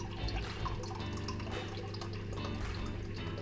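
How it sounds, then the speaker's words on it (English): Milk is poured into a glass in a kitchen, producing a soft continuous trickle and splash with faint dripping, quiet and close, with no voices. "we pour it into the glass"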